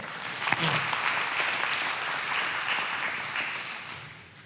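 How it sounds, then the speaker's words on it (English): A church congregation claps together in a warm, dense burst of applause that holds steady for several seconds and then fades, heard alone without talk. "All right, yeah, you can clap for that"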